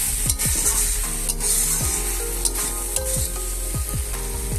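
A spoon scrapes and stirs khesari greens with mustard paste in a hot pan, with steady close sizzling and frying and repeated scraping strokes throughout.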